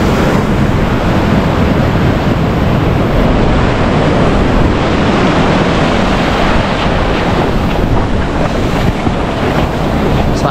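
Rough ocean surf at Dreamland Beach, Bali, roaring steadily and close, with waves crashing in a continuous wash and wind buffeting the microphone throughout.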